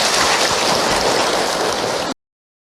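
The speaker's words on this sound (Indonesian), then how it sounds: "ibu tepuk tangan untuk Ahilman" Dense, hissing applause from a seated audience of women at an Indonesian religious talk, steady and loud for about two seconds before it cuts off sharply.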